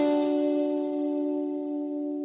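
A lead guitar played through an effects preset with a panning shaper and reverb: a single sustained chord rings out and slowly decays, clear and alone.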